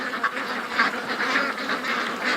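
A flock of ducks quacking steadily on a shoreline, many overlapping nasal calls forming a dense, continuous chatter at close range with no pauses.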